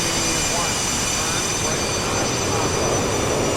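Jet engines of a FlyJSim 737-200 in the X-Plane 11 flight simulator, a loud steady roar with a constant high whine laid over it and little change throughout.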